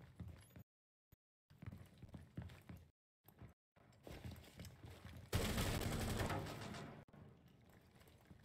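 Gunfire during a Rainbow Six Siege college esports match, bursts of rapid shots and mechanical clatter broken by brief silences, then a long loud sustained volley near the end, heard without talk.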